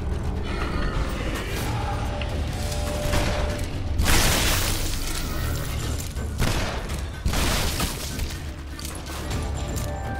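Explosions in the Shadow Warrior video game: loud broadband blasts burst out over a dense background of game noise and mechanical clatter, with two big booms a few seconds apart.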